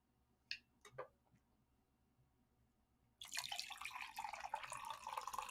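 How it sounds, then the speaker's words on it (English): Tequila pours into a glass in a sudden, steady splashing rush that starts partway through, preceded by a few faint clinks and ticks in an otherwise quiet room. "And that sound good when it's pouring."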